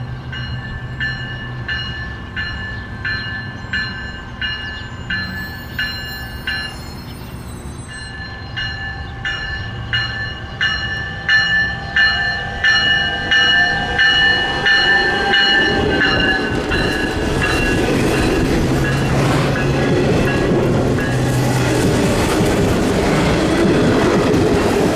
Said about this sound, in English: this Metro Electric train